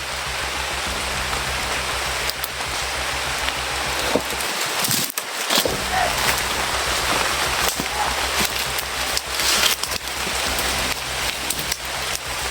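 Heavy rain pours down in a dense, unbroken roar of drops hitting surfaces, loud and close, with a short lull in the low rumble midway before the downpour swells back.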